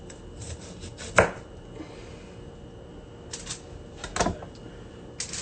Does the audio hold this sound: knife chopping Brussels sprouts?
yes